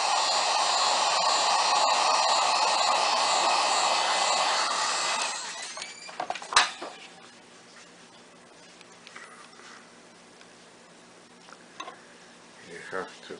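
A heat gun blows steadily while warming a Samsung Galaxy S6 Active smartphone screen to loosen the glass, a broad airy hiss for about five seconds before cutting off, followed by faint handling clicks and taps.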